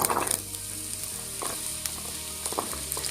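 Diced potatoes, with carrots also going in, fry in hot mustard oil in a kadai. The oil gives a steady close sizzle, marked by a few louder crackles and soft scraping.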